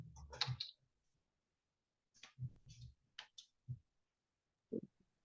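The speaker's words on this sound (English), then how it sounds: "Typing." Typing on a computer keyboard in a classroom setting: short bursts of crisp key clicks, a quick cluster first, then several scattered taps after a pause, close and otherwise quiet.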